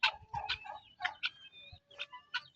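A chicken on a farm at a nature spring resort clucks in short, close bursts, several quick calls spaced across a few seconds with brief quiet gaps, faint and alone.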